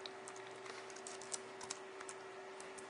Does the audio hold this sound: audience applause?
no